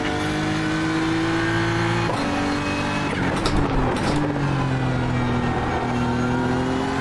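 A BMW M4 GT3 race car engine in the iRacing simulator at Bathurst drones loudly and continuously, with a sudden pitch drop around two seconds in, a brief rattly scrape, then a steady, slowly shifting hum.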